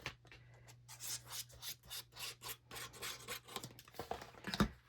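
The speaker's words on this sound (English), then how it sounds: "As I just rub it down, it's like the glue just needs a little pressure to get it adhered" Paper glued onto a sticky note holder rubbed down firmly by hand, a close, dry rasping scrape repeated in steady back-and-forth strokes, with no voices.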